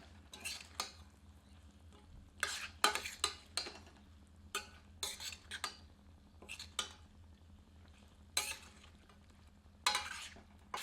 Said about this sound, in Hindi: अब मांस सम्मिलित करते हैं। इसे मसाले में अच्छी तरह मिलाते हैं।